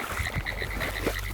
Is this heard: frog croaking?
yes